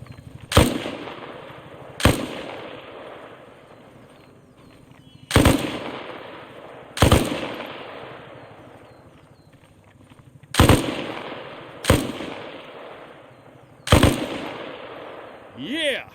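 A bipod-mounted machine gun fires at a range in Arma Reforger as seven loud, sharp single shots, each trailing into an echoing decay, spaced unevenly across the stretch.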